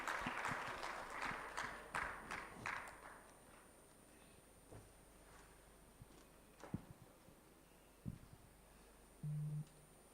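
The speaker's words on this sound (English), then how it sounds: "So may we all please clap for him as he walks up to the stage" Audience applause in a convention hall at a microfinance technology summit in Kigali, a dense patter of claps for the first three seconds that fades into a quiet room with a few scattered knocks.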